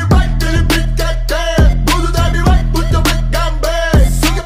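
A Porsche 997 engine runs with an abnormal metallic knocking fault: loud, evenly repeating sharp knocks about twice a second over a constant low engine drone.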